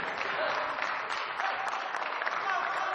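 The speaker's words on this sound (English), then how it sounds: "And a well-deserved applause from the bench and the bleachers here." Applause from the bench players and spectators in the bleachers at the close of a men's college basketball game between Brookdale and Ocean County, a steady, dense crowd clapping that fills the gym for the full stretch at moderate level.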